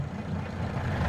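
Truck engine in Farming Simulator 25 rumbles at a low, steady idle, faint and continuous with no talking.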